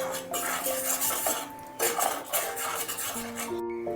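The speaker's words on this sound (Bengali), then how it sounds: "আমি এর মধ্যে দিচ্ছি স্বাদ মতো নুন, অল্প একটু হলুদ গুঁড়ো দিয়ে একটু নেড়ে নিচ্ছি।" Fish being stirred with salt and turmeric in a pan, with continuous scraping and clinking of a metal utensil against the pan and some faint ringing metallic tones.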